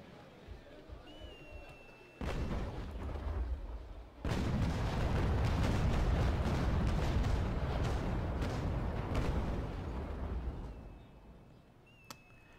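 Ship cannons in the Naval Action game fire on an enemy ship: one heavy boom, then a second blast opening into a long rolling broadside roar with scattered sharp reports, fading out near the end.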